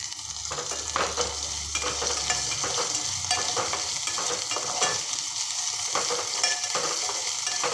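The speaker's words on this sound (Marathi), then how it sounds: "भाजी अशी परतत राहायची कारण आपण टाकलेले मसाले असे जळले नाही पाहिजे" Cluster beans with tomato and spices being stir-fried in a pan make a close, continuous sizzle, broken by repeated scraping strokes of a spatula at an uneven pace, with no one speaking.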